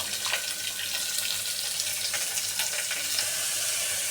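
Onions frying in a pan of spluttered cumin for moringa sambar give a steady, close sizzle with faint clinks throughout, no voices.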